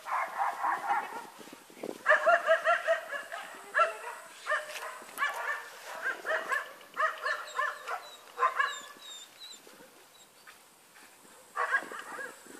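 Several village dogs bark and yip in irregular bursts, some near and some farther off, with a few higher whimpering calls mixed in.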